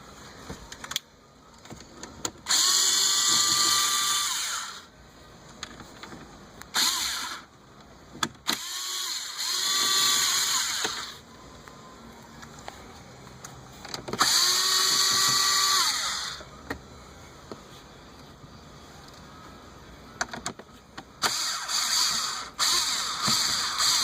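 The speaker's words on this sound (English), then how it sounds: "We're going to need to access, get these screws out right here" A power drill backing screws out of a Hyundai Sonata dashboard, several loud whirring bursts of a few seconds each, separated by pauses filled with handling clicks and rattles, with no talk.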